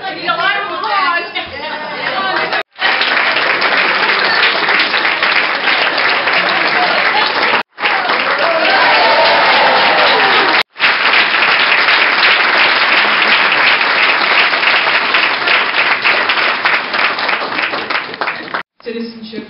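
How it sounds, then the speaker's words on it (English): Sustained, dense applause from a crowd at the grand opening ceremony of a U.S. Citizenship and Immigration Services field office in Queens, New York, with chatter mixed in and a few brief silent breaks. "Need a line of applause."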